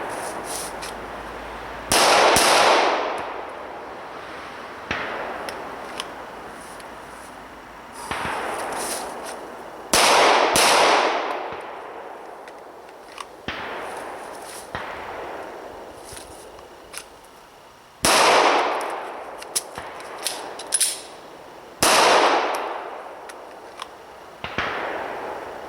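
Sharp, loud pistol shots from a Glock 34 Gen 4 ring out at the range, spaced several seconds apart, some in quick pairs, each followed by a short echoing decay.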